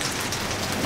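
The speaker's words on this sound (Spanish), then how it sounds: "Pero está chispeando." Steady, even hiss of rain falling on a surface, dense fine patter without pauses or voices.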